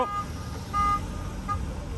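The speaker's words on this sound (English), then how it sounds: "Sir, your car is beeping." A car's electronic warning beeps faintly at a classic car burnout gathering: about three short tonal beeps over a low idling rumble.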